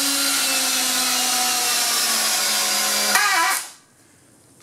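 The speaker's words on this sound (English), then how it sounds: "These are 4-inch screws. I've pre-drilled through them." A power drill drives 4-inch screws through three stacked cedar boards for a garden bench, a loud steady whine that rises and shifts near the end before cutting off to quiet, close by with no talk.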